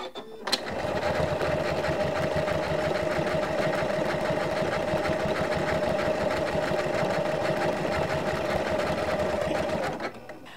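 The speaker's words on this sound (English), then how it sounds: "So I could do another line of stitching there if I wanted to with that one" A sewing machine runs steadily, stitching a line across vintage linen for a quilt-as-you-go wall hanging, a continuous close mechanical whir with a fast rhythmic needle pulse lasting about ten seconds before stopping.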